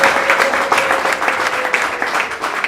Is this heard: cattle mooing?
no